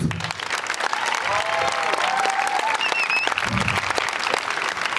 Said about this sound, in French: Bravo à tout le monde, donc on les applaudit tous.